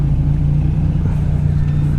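A Yamaha NMAX Version 2 scooter hums along at a steady low drone while weaving through traffic, its engine close and fairly loud.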